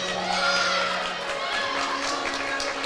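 A crowd in a gym at a girls basketball game claps and cheers in a steady, loud wash of applause and voices, with no single speaker standing out.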